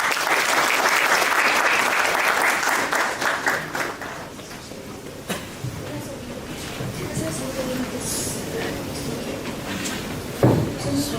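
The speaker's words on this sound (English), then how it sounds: "let's give him a huge round of applause as we welcome Mr. Santosh TK to the stage" Audience applause fills a hall at a Bangalore business-school orientation as a speaker is welcomed onstage, dense and loud at first, then thinning into scattered claps and murmurs with brief voices.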